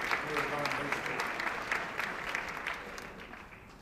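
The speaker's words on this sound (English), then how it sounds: "Please give them a round of applause for doing a great job here at Vine High School" An audience claps in steady, moderate applause at a high school senior merit assembly in a hall, with a voice speaking over the clapping.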